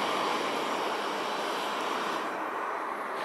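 A Boeing 767-300ER at Haneda Airport sends out a continuous, broad jet roar that holds steady, fairly distant, with no talk over it.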